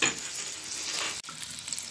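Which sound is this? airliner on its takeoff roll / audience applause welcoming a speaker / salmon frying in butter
salmon frying in butter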